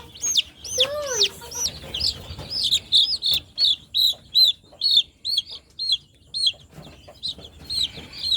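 Chickens and young chicks, recently vaccinated against Ranikhet disease, cluck and chirp close by in a rapid series of bright calls, with a faint voice in the background.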